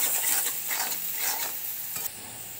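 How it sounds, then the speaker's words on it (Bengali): Onions fry in a pan with turmeric, giving a steady bright sizzle with rhythmic scraping as a spoon stirs them, close and continuous with no talk. "তো এই যে পেঁয়াজটা ভাজা হয়েছে,"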